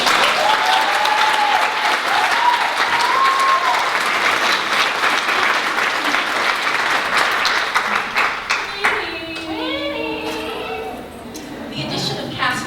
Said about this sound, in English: I think we owe her a round of applause